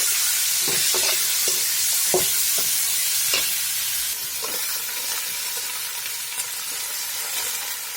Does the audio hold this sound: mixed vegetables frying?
yes